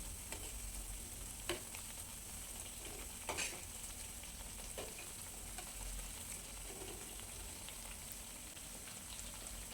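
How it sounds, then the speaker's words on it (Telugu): Pieces of bread frying in oil in a pan give a steady, even sizzle for the whole stretch, with a few brief clinks and bumps rising out of it and no talking. "మిగతా అవి కూడా అలానే వేసుకుందాం మిగతావి కూడా అలానే ఫ్రై చేసుకోవాలండి"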